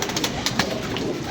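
Pigeons kept by a fancier coo in a steady, close chorus, with soft repeated throaty calls and a few sharper bursts over a busy background.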